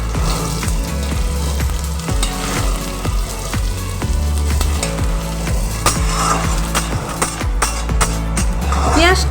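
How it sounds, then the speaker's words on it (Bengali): Chopped onions fry in a pan until reddish as part of an egg dish, making a continuous close crackling sizzle with intermittent stirring clatter over a steady low hum. "পেঁয়াজ কুচো পেঁয়াজটা আমি একটু লাল লাল করে ভেজে নেবো"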